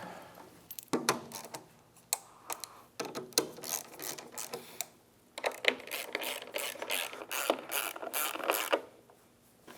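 A ratchet clicks in quick bursts while bolting down the fuel tank on a Kawasaki ZX-14R Ninja, close and fairly quiet, with short pauses and some light metallic handling sounds between runs.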